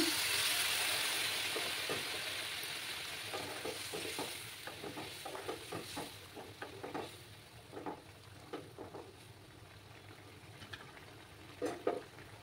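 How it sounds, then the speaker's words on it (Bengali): Hot water poured into sizzling spice masala for a pabda fish curry with kalo jeera, a faint hiss that fades into soft, irregular stirring scrapes and bubbling in the pan. "এবার আমি এই রান্নাতে গরম জল ব্যবহার করব। গরম জল দিয়ে দিচ্ছি।"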